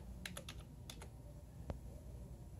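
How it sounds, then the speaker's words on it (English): A short burst of soft keystrokes on a computer keyboard at a medical records workstation: about half a dozen quick clicks, a pause, then a single tap, all faint against a quiet room hum. "I'm just going to type in test"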